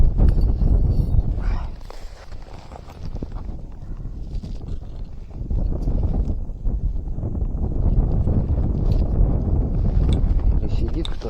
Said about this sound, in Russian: Ох, ветер.